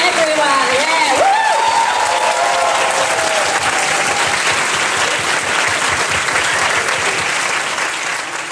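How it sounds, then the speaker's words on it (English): A crowd at an animation meet-up gives sustained, loud applause with scattered cheers, dense clapping filling the whole stretch without pause. "Big round of applause."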